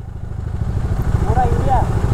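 A motorcycle engine runs with a steady, low, pulsing rumble close by, while faint voices sound in the background.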